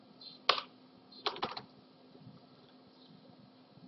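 Scattered key presses on a computer keyboard entering search text, a single tap then a short cluster of clicks over a steady faint electrical hum, with no talking.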